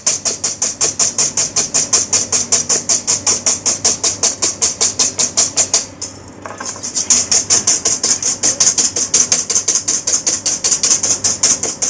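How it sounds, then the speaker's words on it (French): Egg whites with a pinch of salt are whisked by hand in a bowl, making a fast, steady rhythmic clicking beat that pauses briefly midway before resuming, loud and close with no voices. "on cherche à incorporer de l'air dans les blancs"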